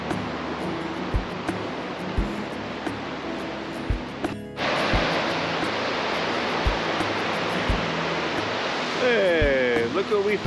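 The river at Moulton Falls in southwest Washington rushes in a loud, constant roar of flowing water, with a few soft thumps of footsteps along the trail and the noise swelling louder partway through.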